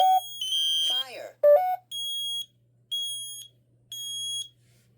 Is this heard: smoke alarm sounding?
yes